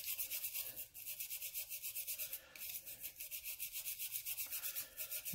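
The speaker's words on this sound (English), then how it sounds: "I'm just basically getting the old grease off of it, so it meshes a little better" A small, fairly soft brush scrubs old grease from surface grinder parts coated in WD-40, making steady close-up rubbing strokes in a quick, even rhythm with one brief pause.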